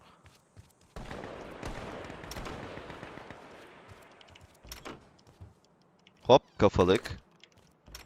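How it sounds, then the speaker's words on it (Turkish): A door in a video game swings shut with a few sharp, loud knocks near the end, following a stretch of soft keyboard clatter and a brief spoken word. "Kapı niye kapandı lan?"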